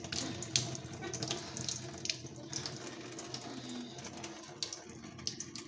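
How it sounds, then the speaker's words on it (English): Water pours from a condenser dryer's water container into a sink: a steady, close splashing stream that runs the whole time with small gurgles and drips, and no talking. "Just pour it out at the bottom, apparently."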